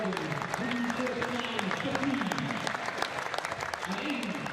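A 7,000-strong cricket crowd applauds Colin Ingram of Glamorgan as he walks off after making 54 from 37. The clapping is steady and sustained, and a commentator speaks over it.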